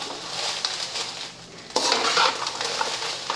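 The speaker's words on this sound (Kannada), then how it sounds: "ಈಗ ನಾನು ಅರ್ಧ kg ಏನು ಗುಂಟೂರು ಮೆಣಸಿನ್ಕಾಯಿ ತೊಗೊಂಡಲ್ಲ ರೀ ಇವೆಲ್ಲ ಹಾಕ್ಕೊಂಡು ಹುರ್ಕೋತೀನಿ ರೀ" Guntur dry red chillies stirred and roasted in a pan over low to medium flame with oil, a steady dry rustle and scrape of a spoon against metal, soft and close.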